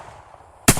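A single sharp, loud AK-47 rifle shot fired without a muzzle brake cracks suddenly after near silence, close and abrupt with a short booming tail.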